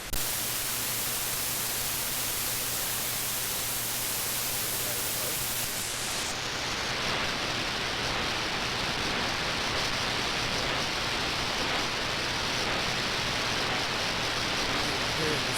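Shortwave radio static hisses in AM mode as a broad, loud, unbroken wash of noise, its texture shifting partway through as the tuning changes, with a faint low hum underneath.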